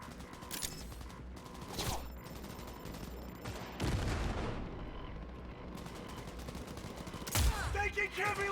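Gunfire in the Cyberpunk video game, repeated sharp shots and bursts of fire with a louder blast midway, over a busy mechanical battle background.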